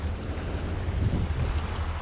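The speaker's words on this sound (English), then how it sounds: "These winds are gradually increasing. But you can see, look at how steep these waves are." Strong wind buffets the microphone aboard a sailboat as steep waves wash and slap around the hull, forming a steady, dense, rushing roar with no speech.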